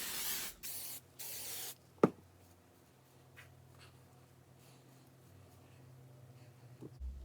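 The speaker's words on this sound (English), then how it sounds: "Some hairspray." Aerosol hairspray misted onto a styled scrunchie bun in two loud hissing bursts at the start, followed by quieter handling sounds and a sharp click.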